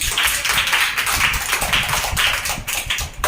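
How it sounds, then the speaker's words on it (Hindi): A group of children in a classroom clap their hands together in fast, uneven bursts, the claps dense and continuous at close range, with little talk. "बहुत बढ़िया लिखा बच्चे, ताली बजाओ इसके लिए।"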